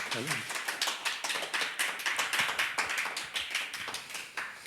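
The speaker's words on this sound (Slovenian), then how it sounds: "Prosim, en aplavz" A crowd applauds with dense, steady clapping that carries on for several seconds at an even level.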